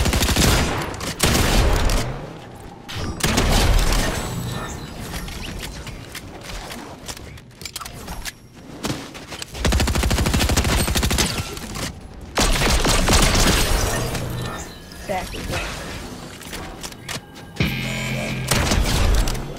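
Rapid pistol gunfire: a sustained fusillade of sharp shots in dense bursts broken by brief pauses, loud and close, with mechanical clatter between volleys.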